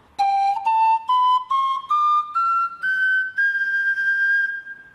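A tenor-range wind instrument being played: a clear, whistle-like tone in eight separate notes stepping steadily upward in a rising scale, the last note held longest, close and loud with no talking.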